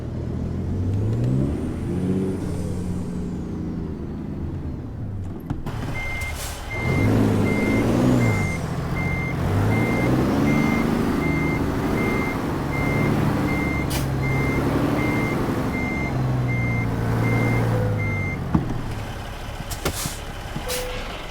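In a truck driving game, a semi backs up to deliver its trailer. Regular evenly spaced reversing beeps ring out over the truck's diesel engine, which revs and idles, with a hiss of air brakes in between.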